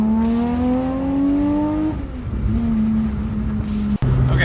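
Subaru Impreza with a swapped H6 engine, lightweight flywheel and transmission, accelerating in second gear: a loud rising engine drone climbs, drops at a shift, then climbs again, heard close from inside the car.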